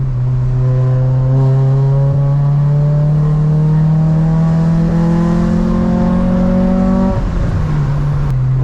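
A Honda Prelude with a repaired exhaust revs in neutral, its tone climbing steadily for several seconds before dropping back to a loud, droning idle up close.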